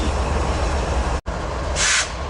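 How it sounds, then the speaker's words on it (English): A Q train running toward Long Beach at a Commerce station, a steady loud rumble of wheels and cars throughout, with a brief dropout midway and a short hissing burst near the end. "there goes the continuation of that Q train down to Long Beach"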